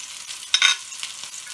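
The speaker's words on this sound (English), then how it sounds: "I'm just going to take with a spoon and drop them into the hot sauce and allow them to poach" Meatballs spooned into hot tomato sauce to poach, giving a short burst of soft splashing and bubbling around the middle, then faint simmering with a few small plops.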